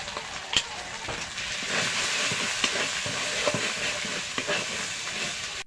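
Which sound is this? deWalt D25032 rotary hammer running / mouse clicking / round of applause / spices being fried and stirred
spices being fried and stirred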